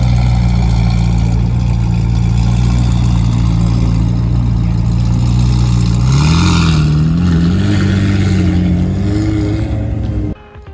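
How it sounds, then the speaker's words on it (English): A McLaren 720S at a street cars-and-coffee meet holds a loud, close idle drone, then blips and rises through a few revs before cutting off sharply near the end. "this McLaren 720S just sounds crazy"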